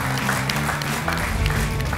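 A studio audience at a televised comedy contest claps in a short burst of applause. The clapping is mixed with a tonal background sound.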